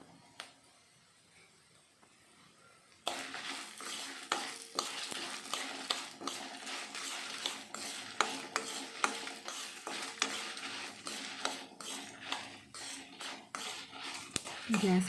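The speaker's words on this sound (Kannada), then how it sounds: "ಗ್ಯಾಸ್ ಫ್ಲೇಮ್ನ ಕಡಿಮೆ ಇಟ್ಕೊಂಡು ಮೆಣಸಿನ್ಕಾಯಿನ ಹುರಿಬೇಕಾಗುತ್ತೆ" Dried Guntur and Byadgi chillies roasting in a pan over a low gas flame, heard after a quiet start as a steady crackle with frequent close stirring scrapes and clinks.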